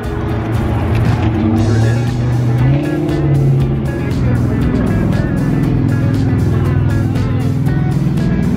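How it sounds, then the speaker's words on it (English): Old classic cars cruise past at a car show in Golden, a steady loud rumble of engines rolling by close at hand, with voices chatting faintly underneath. "watching all the fantastic old classic cars go by"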